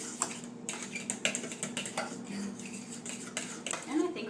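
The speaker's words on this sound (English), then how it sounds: "Just make sure that that's stirred up all the way," Spoon scraping and clinking against a bowl while pumpkin pie filling is stirred, a close run of irregular metallic taps and scrapes over a faint steady hum.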